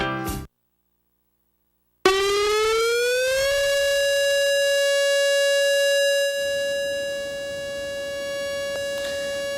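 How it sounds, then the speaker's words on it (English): An outdoor tornado siren winds up from silence, rising in pitch to a loud sustained wail heard from a distance, then holds steady as the background shifts slightly, with no voices present. "So what you hear there is a tornado siren."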